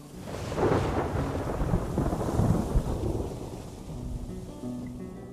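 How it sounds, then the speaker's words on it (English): Distant thunder rolls low and heavy under a steady wash of rain, rumbling in broad swells that fade toward the end. "even if you hear distant thunder rolling closer"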